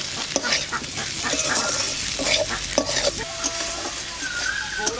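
Fried rice goes into a sizzling pan for Bengali chal potol and gets stirred, with a steady loud fry hiss and scraping stirs against the pan close up and no speech.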